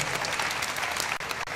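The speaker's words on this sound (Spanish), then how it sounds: "se merece un aplauso porque piensa." Audience applause during a math-magic session, a thick, continuous wash of clapping held at a steady level throughout.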